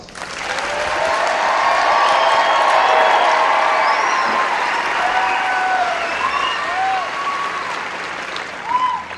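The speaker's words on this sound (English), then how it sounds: "Let's give them a round of applause." A large audience at an Air Force training squadron coin ceremony applauds the graduates with sustained loud clapping and a few whistles and cheers rising above it.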